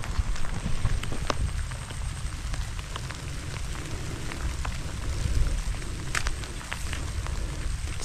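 Rain falls on a rice paddy, a steady patter of drops with scattered sharper splashes close by, continuous throughout.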